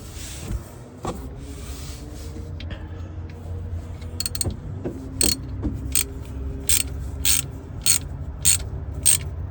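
Ratchet wrench tightening a bolt while servicing the transmission on a 2014 Ford Explorer, several quick clicking bursts close up, growing more frequent toward the end over a low background hum.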